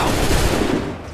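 Musket volley in Assassin's Creed III: a dense, rolling burst of many guns firing together, loud and close, holding steady before trailing off, with no talking.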